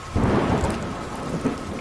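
Heavy downpour with rumbling thunder in a spooky cartoon storm, a dense, steady roar of rain and low booming rolls throughout the short stretch, with no voices.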